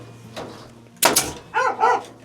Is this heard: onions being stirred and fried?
no